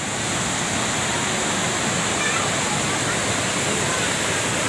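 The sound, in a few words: waterfall at Osam hill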